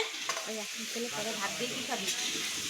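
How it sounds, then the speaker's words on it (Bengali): Steady sizzling of food frying in a pan, close by, with faint stirring scrapes and voices talking quietly in the background. "এখানে আরো ভাজা হচ্ছে"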